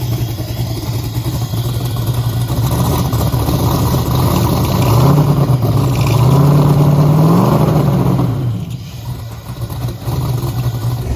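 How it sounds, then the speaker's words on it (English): A car engine fitted with a large 98mm Precision race turbo runs loud and close with a steady rumble, and a rising then falling tone swells through the middle before the sound eases near the end. "Never seen a turbo spin so slow."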